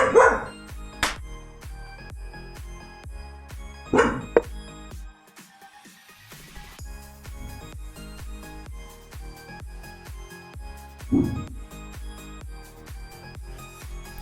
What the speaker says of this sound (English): If you hear some background noise, that's my dog.